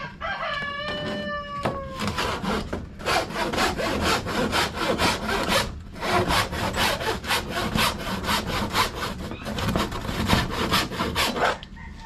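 Steady back-and-forth strokes of a hand saw cutting thin plywood, loud and close, with a rooster crowing briefly at the start.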